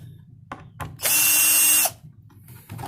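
A Philco Force PPF03M 12V cordless drill driver runs in reverse to back a screw out of a construction board, a steady close whine lasting almost a second between quieter handling sounds.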